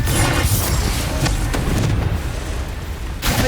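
Blasts and booms from Confringo fire-blast spells in Hogwarts Legacy, a loud, dense run of explosive bursts with rumbling low end and sharp cracks scattered through, continuous with no pauses.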